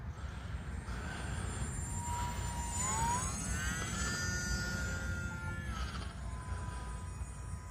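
An E-flite UMX Turbo Timber RC plane climbs away after takeoff on a calm day, its thin electric motor whine rising and sliding in pitch as it passes at a distance over soft outdoor background noise.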